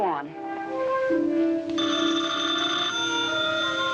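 An old-fashioned telephone bell rings in a 1950s drama, a steady electric ring that runs through the scene beneath music and voices.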